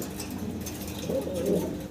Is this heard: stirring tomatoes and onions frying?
no